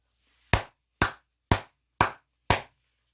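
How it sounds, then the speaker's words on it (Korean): Five crisp, sharp hand claps ring out alone, evenly spaced about half a second apart, each loud and close with a short decay into silence. "크게 박수 한번 치고 가도록 하겠습니다"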